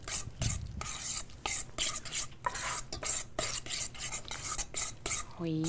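A spoon whisks beaten eggs briskly in a bowl, a steady run of close scraping and clinking strokes, with a faint whisper of sound near the end.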